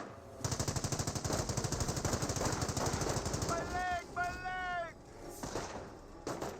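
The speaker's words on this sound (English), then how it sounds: "30 cal engaging the Panzer Grenadiers." A .30 cal machine gun rattles in long rapid bursts during a Company of Heroes battle, with in-game voices and sharp electronic chirps layered over the steady gunfire.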